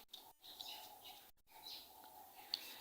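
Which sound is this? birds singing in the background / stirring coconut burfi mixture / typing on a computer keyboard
birds singing in the background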